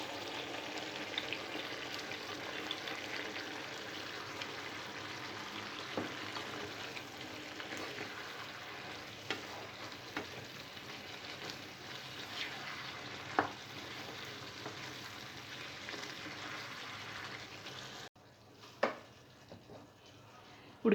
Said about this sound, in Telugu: కూరగాయ ముక్కలు చింతపండు రసంలో ఉడుకుతున్నప్పుడే మనం ముందుగా తయారు చేసి పెట్టుకున్న మసాలా పొడి వేసుకోవాలి